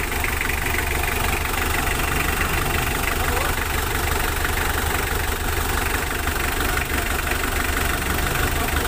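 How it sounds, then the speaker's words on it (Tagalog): A Mitsubishi L300 van engine idles steadily and evenly at close range after a rocker arm shaft replacement, a constant low rumble with no revving or talk. "Saka tahimik na rin yung kanyang makina."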